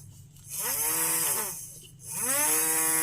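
Mini DC motor running on a 9-volt battery, whirring up and winding down twice in a row with a sweeping, buzzing tone, close and fairly loud.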